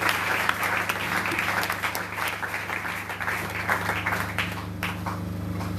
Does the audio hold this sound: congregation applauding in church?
yes